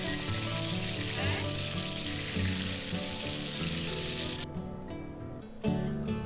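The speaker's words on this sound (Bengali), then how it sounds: "এর মধ্যে আমি চিংড়ি মাছগুলোকে ভেজে নিচ্ছি।" Prawns frying in oil in a wok, a dense close sizzle with crackling that drops away briefly before surging back, alongside a faint tonal hum.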